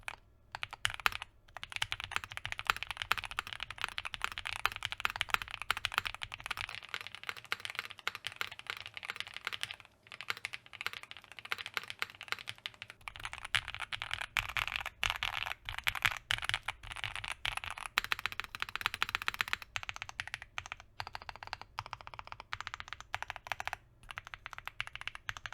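Rapid, continuous typing on a Neo 65 mechanical keyboard, with crisp clacky keystrokes close up and a few brief pauses.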